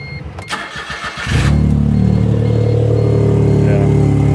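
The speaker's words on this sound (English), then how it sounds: "Let's go ahead and start it up, and you can hear the exhaust leak too." Smart car engine with an exhaust leak cranks and catches after about a second, settling into a loud, steady, raspy idle close by.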